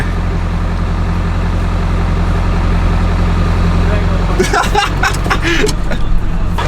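A truck engine idles and rumbles loudly and steadily up close, then the vehicle pulls out and turns, with a burst of clattering and knocking noises in the final seconds and a voice talking over it.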